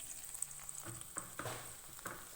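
A cucumber curry simmers in a clay pot, giving a faint, low sizzle and soft bubbling pops, broken by a few scattered clicks and knocks. No one speaks.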